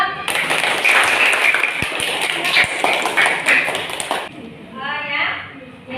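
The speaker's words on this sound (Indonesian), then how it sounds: "kita kasih tepuk tangan buat kelompok pilot" Classroom clapping for a student group, a dense burst of many hands from a class that runs about four seconds and then stops abruptly, followed by quieter room sound.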